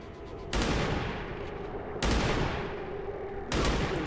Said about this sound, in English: someone just took lots of shots at me and killed my entire squad